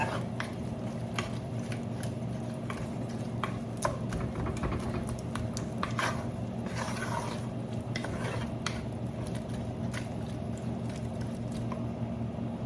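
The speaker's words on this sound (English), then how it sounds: "Daughter's cooking breakfast right here" Breakfast cooks in a pan on a home kitchen stove, with soft stirring, squishing and light scraping over a steady low hum, plus scattered small clicks of a utensil against the pan.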